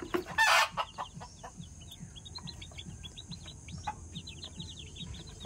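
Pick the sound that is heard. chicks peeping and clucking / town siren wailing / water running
chicks peeping and clucking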